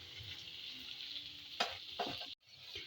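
Chicken tikka boti cubes sizzle over a full flame in a steady, bright hiss, close up, broken by a couple of stirring clatters and a brief cutout near the end, with no voices.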